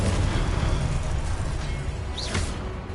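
A Confringo spell explosion in the video game Hogwarts Legacy, a booming burst over a loud rumbling bed, followed by a brief rising whoosh near the end.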